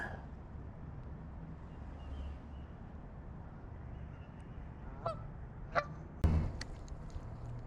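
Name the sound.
goose honking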